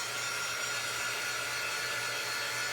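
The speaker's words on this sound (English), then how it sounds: "we're gonna go ahead and hit it with the dryer real quick" A hair dryer blows steadily on a handmade tabletop fireworks craft, a constant close whooshing hum with no talking.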